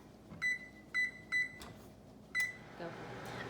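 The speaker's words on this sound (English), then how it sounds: "Back in the microwave it goes for 1 more minute" A microwave oven heats a caramel popcorn mixture, its electronic beeps sounding in a short series of evenly spaced chirps followed by one more, with a low hum and faint clatter beneath.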